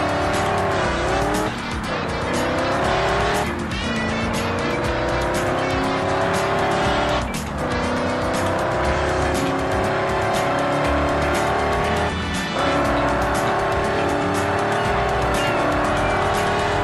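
Race cars from the video game Ford Racing 2: a loud, continuous engine roar with rising and falling revs and repeated tire squeals on the corners, held steady throughout with no talking.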